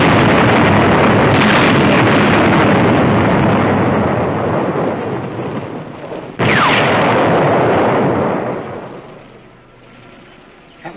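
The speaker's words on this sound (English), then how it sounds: "From the sound of the explosions, they missed." Explosions in a wartime film scene of bombs dropped on a transport, a long roaring blast that fades, then a second sharp burst around the middle that rolls off into quieter rumble, loud and close.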